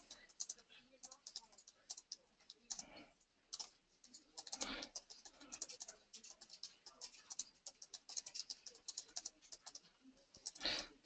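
Typing on a computer keyboard to write a short message for a file share, heard as quick, irregular key clicks in bursts, faint and close, with quiet talking partly running over them.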